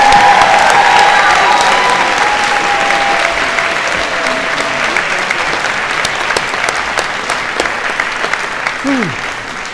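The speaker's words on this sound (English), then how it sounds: "Please give them all a big round of applause." A large crowd claps loudly and steadily at a high school senior awards presentation, the applause continuing throughout and tapering slightly toward the end.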